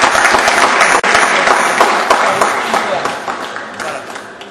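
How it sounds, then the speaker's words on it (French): Audience applause at a school charity event as a student from fifth-year electronics comes forward: a dense, steady clatter of many hands, fairly loud and close, with a brief dropout near the start, fading gently toward the end. "Et applaudir."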